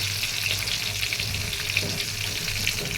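Eggplant slices fry in a pan with a steady, close sizzle and soft crackle that runs unbroken throughout.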